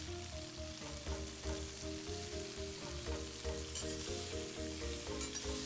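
Pepper and leeks stir-fry with cuttlefish in a hot pan: steady sizzling and hissing of oil under repeated scraping and clanking of a spatula stirring the food, with no talking.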